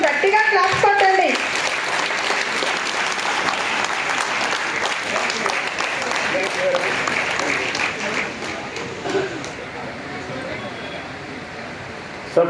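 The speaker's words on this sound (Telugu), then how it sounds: "కొంచెం గట్టిగా క్లాప్స్ కొట్టండి." An audience at a meeting claps loudly and continuously, a dense roar of hands lasting over ten seconds with a brief voice at the very start.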